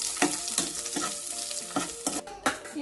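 Chopped onion, garlic and ginger frying in a pan for an Ilocano home-cooked dish, with a soft continuous sizzle broken by several sharp scraping stirs of a utensil, close up and with no talking.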